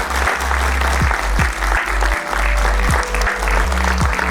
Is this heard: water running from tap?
no